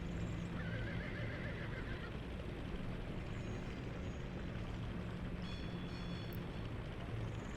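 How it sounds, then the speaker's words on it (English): Horses whinnying in a video game set in a city street, a couple of clear neighs over a dense, steady background of ambient game noise, with faint honking calls near the end. "Those horses do not look healthy."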